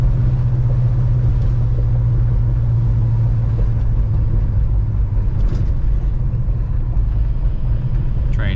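A 1968 Pontiac GTO cruises at about 45 mph and 2,200 RPM, its engine a steady, deep rumbling drone heard from inside the car, with road noise blended underneath.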